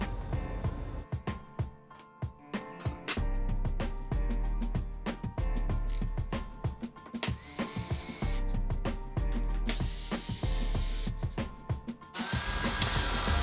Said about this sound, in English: So this is me sanding for probably a couple of hours, getting those router marks out of there